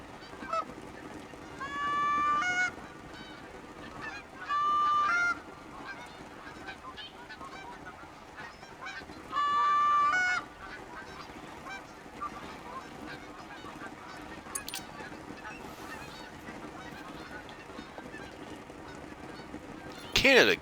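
Canada goose honks from The Hunter: Call of the Wild come in three separate loud bursts of repeated calls over a quiet outdoor ambience.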